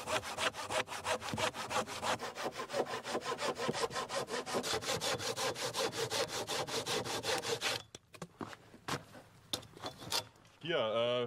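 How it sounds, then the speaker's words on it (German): A hand saw cuts angles into wooden cross braces for a pit house, with rapid regular back-and-forth strokes close up for about eight seconds. Scattered knocks and a brief voice follow. "So, wir sägen uns jetzt hier Winkel rein"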